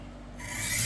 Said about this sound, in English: let's start some honing strokes.